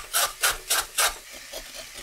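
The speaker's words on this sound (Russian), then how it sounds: "мы с вами натрем морковь и пару соленых огурцов" A carrot is rubbed on a coarse grater in four quick, even rasping strokes, then a few softer scrapes, close and clear with no talking.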